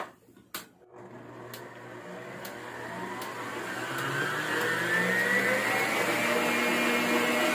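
An electric mixer whirs steadily at maximum speed, beating butter frosting, a continuous close motor drone that rises slightly in pitch and strength after a couple of clicks at the start.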